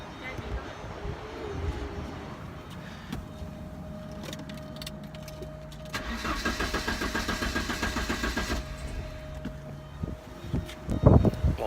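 A Porsche 944 with a no-start and hard-start fault cranks rhythmically for several seconds without catching, set against faint wind and outdoor background noise, with a sharp pop near the end.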